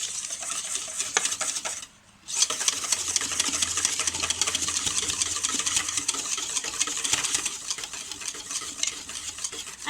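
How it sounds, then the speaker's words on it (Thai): A wire whisk beats sandwich dressing in a bowl fast and hard, making a dense, continuous scraping and rattling against the bowl that pauses briefly near the start, then keeps up a steady rapid clatter. "ใช้ตะกร้อตีน้ำแซนด์วิชของเรานะคะค่ะแล้วก็ทีหมดแล้วตีเร็วๆนะตีเร็วๆแรงๆ"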